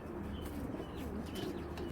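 A pair of Giribaz army pigeons, a jiragola army pair, coos softly and steadily in a loft, with faint chirps over a constant low background hum.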